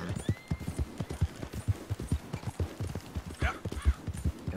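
Horse hooves clip-clop steadily in Red Dead Redemption 2, a tired horse moving at a regular walking rhythm through a town, the strikes close and clear, with a brief whinny-like call partway through and no talking.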